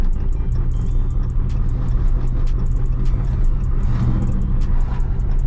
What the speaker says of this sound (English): that's my tire flapping